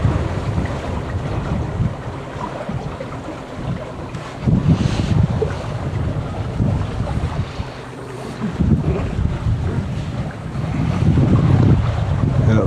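A sailboat under full sail in a brisk breeze makes steady wind rush and microphone buffeting over sloshing water, with surges of louder gusts and waves, and no voices.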